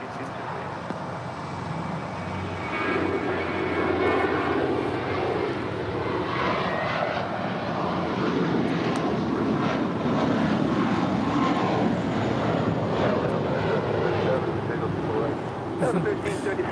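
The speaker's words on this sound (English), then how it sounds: "This departure is American Airlines 1331 departing to Dallas Fort Worth on a 5-year-old A321." An American Airlines Airbus A321, about five years old, departs LAX bound for Dallas Fort Worth, its jet engines roaring as a broad, steady rumble that swells and holds with faint background traffic.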